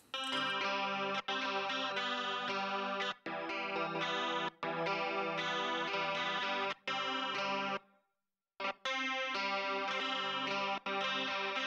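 Electric guitars run through a chorus effect plugin play a dense, sustained distorted passage in a mix, with a brief drop-out near the end before the music resumes.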